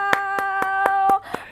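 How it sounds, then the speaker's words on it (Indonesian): Hands clapping at a steady, even pace, five or six distinct claps close by, with a tonal hum running underneath before it fades at the end. "Aplaus kalau di sini banyak orang pasti tepuk tangannya lebih riuh, renyah gitu ya, Bang Jaja ya."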